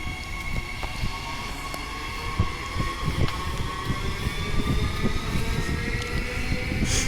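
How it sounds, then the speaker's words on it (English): A train rumbles past Eglinton Station steadily, with a continuous roar, clacking wheels and a high metallic whine, loud and nearby throughout. "there goes the train again."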